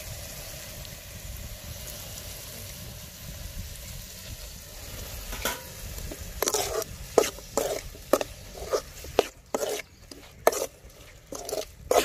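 Mushrooms sautéing in a pan for a village-style mushroom gravy, with a low steady sizzle and then a series of sharp scraping and stirring clatters that grow louder and more frequent.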